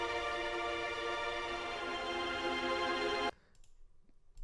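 Layered string tremolo from Berlin Orchestra Inspire and Mural sample libraries, recorded at Air Studios with some room sound, holds a dense, shimmering sustained chord, then cuts off abruptly, leaving a brief quiet tail.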